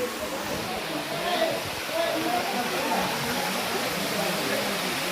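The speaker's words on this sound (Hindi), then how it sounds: "ये पहाड़ से पानी आ रहा दिख रहा है नीचे" Water streams down from the hills at Pandupol in Sariska Tiger Reserve, Alwar, making a steady broadband rush that holds throughout, with a faint voice underneath.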